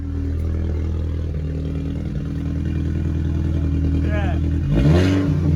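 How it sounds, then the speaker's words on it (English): Audi A5 engine held at a steady loud idle drone, then blipped in a quick rev near the end, with a short spoken word over it. "rev it again"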